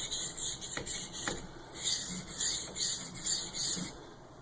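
A knife's heel rasps back and forth across a waterstone in rhythmic, quiet strokes, roughly a dozen passes of gritty scraping close by with no voices.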